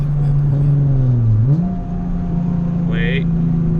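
A Nissan 370Z fitted with test pipes idles and revs with a raspy exhaust. The steady rumble rises briefly and then settles back, close and loud, while a voice talks over it.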